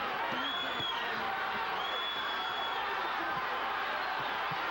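A boxing crowd roars and cheers in an arena during the ninth round of a James Toney vs Michael Nunn fight, a steady wash of distant voices with brief whoops rising above it.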